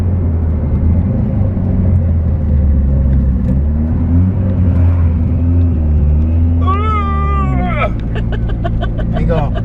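A Mitsubishi Eclipse 2G front-wheel-drive car is driven with its engine rumbling loudly and steadily. Rising, wavering whines near the end could be revs or tyre squeal, and people talk over it inside the car.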